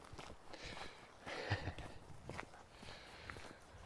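A dog walking around outdoors near a low-lying shoreline, its soft footsteps pattering irregularly and faintly close by over a light breeze, with no talking.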